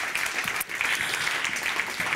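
Audience applause at the Storytel Awards gala, a dense, steady wash of clapping that fills the whole stretch with one brief dip partway through.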